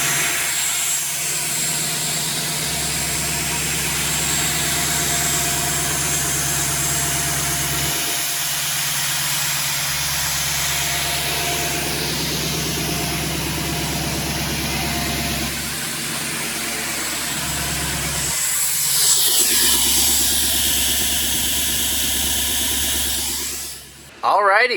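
A Duramax diesel truck engine idles after a fuel filter change, a steady close drone with a few brief dips in tone, mostly unbroken before a sudden cutoff near the end.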